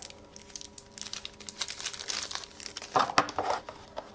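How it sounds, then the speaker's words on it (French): Plastic packaging for a GoPro Hero6 Black battery is opened by hand. Close crinkling and crumpling rustles come in uneven bursts, with a sharper tearing crackle near the end and no talk. "On va tout de suite ouvrir la batterie, comme ça on l'aura."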